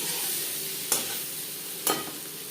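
Paneer pieces fry in oil with salt and turmeric, giving a steady close sizzle broken by two sharp scraping stirs of a spatula against the pan.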